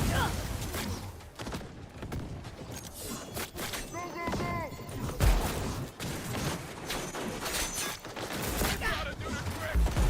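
Gunfire in Cyberpunk 2077: dense volleys of shots and impact thuds, close and loud, continuing with a voice talking over the fight throughout.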